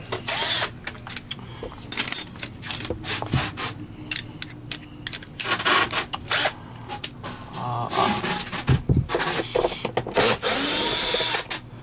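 Plastic housing of a Miele C1 vacuum cleaner being pried and pulled apart, with close, irregular scraping, rubbing and clicking bursts and sharp snaps continuing throughout, no talk.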